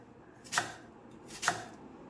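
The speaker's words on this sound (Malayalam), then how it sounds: "അതിനുശേഷം നമ്മൾ സവാള നീളത്തിൽ സ്ലൈസ് ചെയ്ത അരിയുന്നത് കേട്ടോ" A knife slices an onion lengthwise on a board for an okra curry, with two crisp, separate cutting strokes about a second apart, close and fairly quiet.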